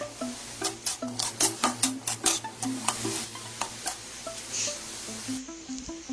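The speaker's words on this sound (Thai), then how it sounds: "จะเอาผัดกระเฉดหมูกรอบลงไปผัดเลยค่ะผัดให้สุกเลยนะคะ" Water mimosa and crispy pork stir-fried in a pan, with a steady rhythm of spatula scrapes and clacks against the metal over a low sizzle, close and fairly loud, with no talking.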